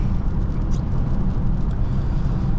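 Steady low engine and road drone from inside a moving 2024 VW Atlas Cross Sport SUV at about 70, continuous and fairly loud, with broadband tire and wind noise on top.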